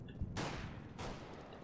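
Two sharp gunshot bursts ring out in CS:GO on the Mirage map, muffled and somewhat distant, spaced about half a second apart with a brief reverberant tail.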